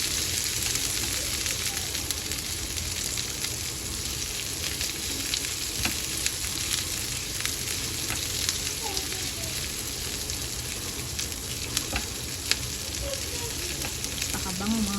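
Garlic and ginger fry in a pan and are stirred. A dense, steady sizzle runs the whole time, broken by occasional soft scrapes and clinks of stirring.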